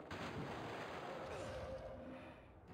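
Gunfire echoes through a scene in the video game Resident Evil 2, a booming, rumbling burst at moderate loudness that rolls on continuously with a reverberant tail, and no speech over it.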